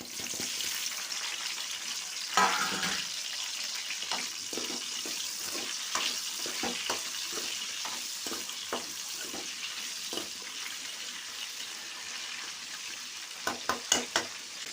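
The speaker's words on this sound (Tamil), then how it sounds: "இப்போது இதை நம்ம இந்த எண்ணெய் சூடானதும் சேர்த்துக்க போகிறோம்." Eggplant pieces fry in hot oil in a home kitchen, with a continuous bright sizzle and crackle throughout, broken by a few stirring clatters and scrapes near the start and end.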